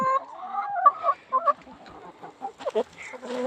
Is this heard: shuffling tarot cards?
no